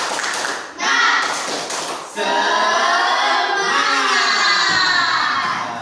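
A class of sixth-grade schoolchildren performs a rhythmic clapping chant together, bursts of claps giving way to loud shouted, sung voices in unison that carry on steadily, with an adult teacher leading.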